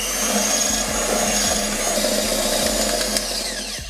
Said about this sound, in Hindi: तो चलें इसे बीट कर लेते हैं 2 मिनट के लिए।